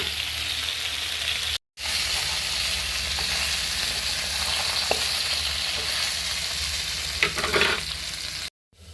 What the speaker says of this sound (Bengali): মাছগুলো সুন্দর করে ভেজে নিচ্ছি।